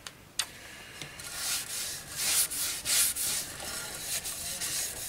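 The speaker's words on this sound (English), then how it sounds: "I am still applying the sanding sealant." Steady rubbing of sanding sealant onto a wooden plate, a continuous dry hiss that swells and fades in strokes, with no talking.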